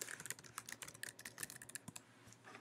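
A caption typed on a computer keyboard: quick, quiet clicking keystrokes in uneven bursts, close to the listener with no talking.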